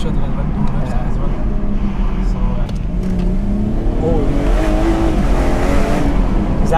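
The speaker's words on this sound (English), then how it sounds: "I assume that was traction control kicking in" Modified BMW M240i launching hard in first gear in sport mode, its engine roaring and climbing in pitch as traction control cuts in and interrupts the acceleration, heard loud and close with a voice over it.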